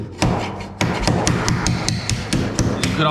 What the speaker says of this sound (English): You could also do it with a hammer.